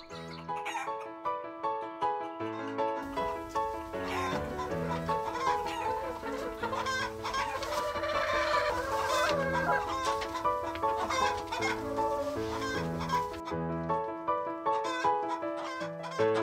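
Hens cluck inside a hen house on Plum Forest Farm, a busy run of repeated, close clucks and calls that carries on throughout.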